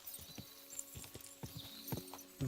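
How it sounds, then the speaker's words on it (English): Horse hooves clip-clopping in the medieval game Kingdom Come: Deliverance 2, a fairly quick run of hoofbeats up close over faint background ambience, with one louder thump at the end. "The random horse moved."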